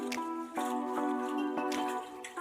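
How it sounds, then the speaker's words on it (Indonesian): Cooking water is poured off boiled mangrove fruit simmered with charcoal, giving a faint, close trickle broken by a few soft drips and splashes. "Ini kita buang airnya ya"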